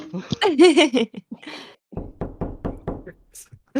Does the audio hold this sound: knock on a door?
yes